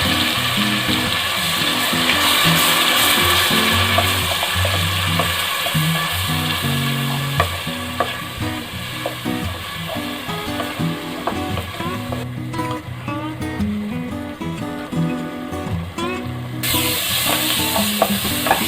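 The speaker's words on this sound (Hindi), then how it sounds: "हमारा जो प्याज है वो भुनने लगा है" Onion paste with a bay leaf fries in a pan for a dhaba-style paneer masala, giving a loud, continuous sizzle broken by repeated scraping and clinking from stirring.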